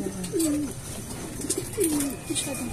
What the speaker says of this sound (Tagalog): Kakunti lang ang mga ibon dito guys.